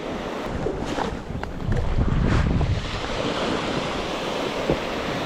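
Sea waves breaking on a Camargue shore while fly fishing for sea bass, a broad steady wash of surf with gusty wind noise across the microphone, swelling louder in the middle and then easing.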